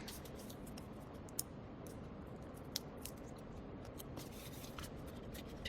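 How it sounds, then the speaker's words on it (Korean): Scissors cut double-sided tape into small pieces for a children's solar-powered toy car science kit: a few faint, sharp snips sit over a steady background hiss, with no talk. "양면 테이프를 총 몇 개? 4개로 잘라줍니다."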